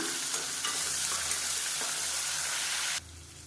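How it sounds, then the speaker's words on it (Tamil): Onions and garlic sauté in a pan with a dense, steady sizzle and crackle, close and clear with no voices, until the frying drops away abruptly near the end. "இப்போ வெங்காயம் நல்லா வதங்கிடுச்சு"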